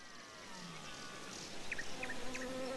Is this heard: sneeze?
no